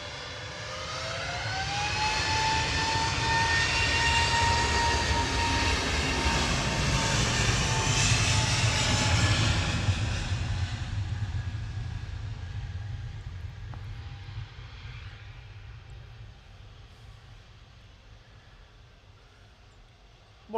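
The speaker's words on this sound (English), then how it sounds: "EasyJet to Belfast," An EasyJet airliner on flight 701 to Belfast roars past at Manchester Airport, a loud broad engine rumble with a rising whine that swells, holds, then slowly fades into the distance.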